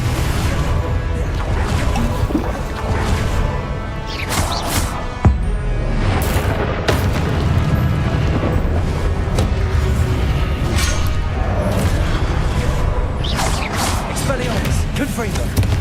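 Expelliarmus and Confringo spells cast in Hogwarts Legacy, repeated sharp whooshes, cracks and crashing blasts over continuous game noise, with a voice speaking between the impacts.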